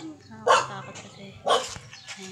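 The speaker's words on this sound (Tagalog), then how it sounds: "Nakabahan ako sa mga aso." Dogs bark outdoors in two loud, separate bursts about a second apart, with fainter yips and whimpers in between.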